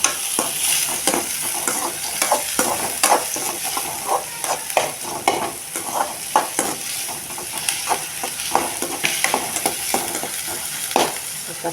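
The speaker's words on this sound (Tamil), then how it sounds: "ஒரு 4 வெங்காயம் அரைச்சி வச்சுருக்கேன், அதையும் போட்டுக்கிறேன். வெங்காயம் கொஞ்சம் வதங்கட்டும்" Ground onion paste sautéing in a pan for Guntur chicken, a steady close sizzle broken by repeated scraping stirs of a spoon against the pan, with no talk.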